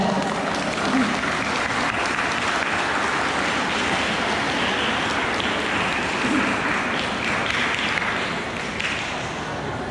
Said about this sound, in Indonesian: Aplaus untuk para ustadz ustadzah.